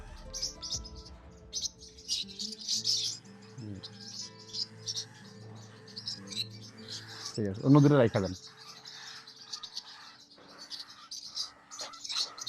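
Rosy Bourke's parakeet chick, a young pink bird brought home, gives scattered high chirps and tweets across the stretch, faint and intermittent, while a person talks nearby and some background buzz and a few louder bursts come through.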